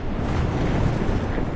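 Sea waves roll and churn into foam in What Remains of Edith Finch, giving a dense, steady wash of surf with a windy hiss, close and fairly loud, with no talking.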